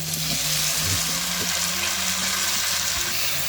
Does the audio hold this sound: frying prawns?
yes